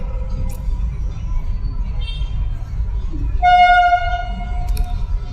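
Train horn sounding near a railway track, a sustained tonal toot rising over low rumbling background noise and a faint voice partway through.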